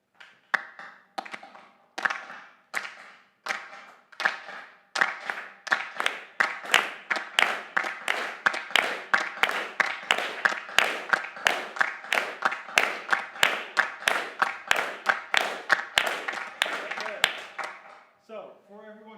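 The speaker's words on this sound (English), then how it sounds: "the audience is also invited to join the clapping" A crowd claps together in a steady, even rhythm, the sharp beats repeating many times and gradually tightening, with voices faintly mixed in.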